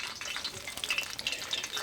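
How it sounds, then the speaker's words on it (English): Fish fillets go into hot grease and set off a steady, close crackling sizzle, with no voices. "we're gonna take our fillets, gently coach them into the hot grease"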